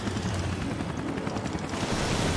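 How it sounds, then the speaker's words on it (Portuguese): Helicopter rotor in the video game Resident Evil Revelations, a dense continuous low chopping thrum that stays loud and steady for the whole stretch, with no voices over it. "Vai pegar um helicóptero."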